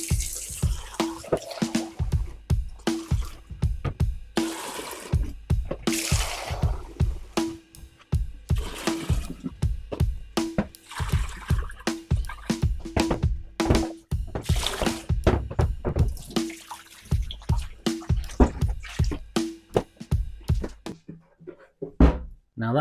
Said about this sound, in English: We'll give it one last cold rinse now.